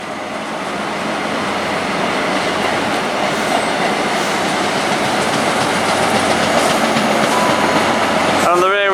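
Two Class 800 trains, units 800 002 and 001, pass at Reading on the Great Western Main Line. Steady loud rumble and rail roar fill the whole stretch, with faint clickety-clack and a brief wheel squeal near the end.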